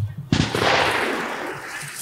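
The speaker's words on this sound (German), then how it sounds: "dann bricht der Schuss" A single loud shot from a Karabiner 98K rifle cracks sharply, followed by a long rolling echo that slowly fades outdoors.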